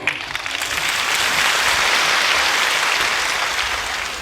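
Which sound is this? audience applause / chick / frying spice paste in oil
audience applause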